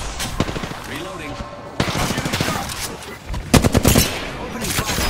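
Rapid automatic gunfire in Apex Legends gameplay, bursts of close, punchy shots between pauses, with a character voice speaking over the shooting.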